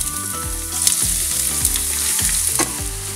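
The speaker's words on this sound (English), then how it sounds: "So now in goes the oil. And also, I am going to add in the onions." Onions fry in hot oil in a pan with popping mustard seeds for a Rajma kidney bean curry. A loud, steady sizzle close by is dotted with sharp pops and crackles, with no talking.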